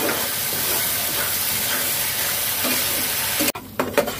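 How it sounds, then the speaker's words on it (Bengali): Spice paste sautéed with spice water in a pan for a Puri dhaba-style dish gives a steady, close sizzle with stirring scrapes for about three and a half seconds before it abruptly stops. "তাহলে এটা মশলার জল দিয়ে একটু কষে নেব।"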